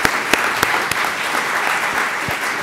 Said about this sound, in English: How about another round of applause for all of these incredible alumni?